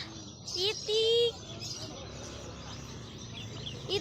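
Busy bird market in Sukahaji, Bandung: a few short chirps and whistles rise over a low murmur of market noise, with people talking faintly nearby.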